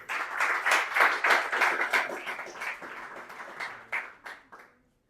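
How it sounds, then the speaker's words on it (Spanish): An audience claps in a burst of applause, dense at first and then thinning into scattered individual claps before fading out after about five seconds. "otro aplauso para vosotros."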